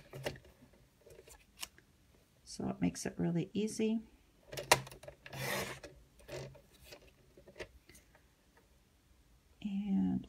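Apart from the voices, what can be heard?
paper cutter slicing card into 1 inch strips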